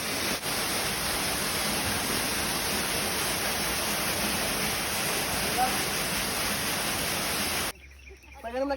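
Clear river water pours out of a cave, a dense, steady rushing wash that stays even and close for most of the stretch before dropping away abruptly near the end.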